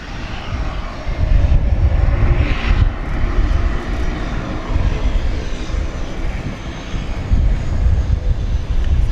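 A steady, loud roar from an airliner's engines as it comes in to land at DFW Airport at night, with wind noise and no talking over it.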